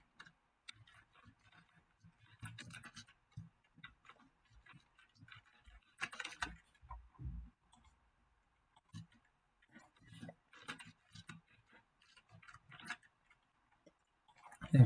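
Faint keystrokes on a computer keyboard as an email address is entered, coming as scattered light clicks in short irregular runs with quiet gaps and a few louder taps.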